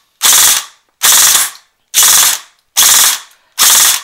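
An airsoft electric gun (AEG) with a burst controller and LiPo battery fires five loud, sharp bursts of rapid mechanical clatter, each about half a second long, evenly spaced with short silent gaps between them.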